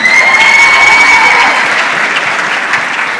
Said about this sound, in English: Another round of applause for the team